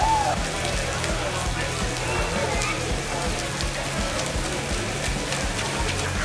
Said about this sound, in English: it is downpouring again